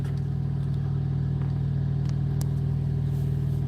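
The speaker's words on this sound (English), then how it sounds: "there's a truck backing out" A truck backs out at a truck stop, heard as a steady, close diesel engine rumble that holds evenly without clear revving and has no talk over it.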